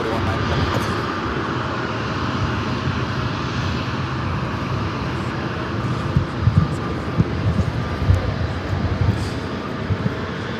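An airliner departing LAX for Minneapolis sends up a sustained jet roar with low rumbling pulses later on, and a voice talks faintly over it.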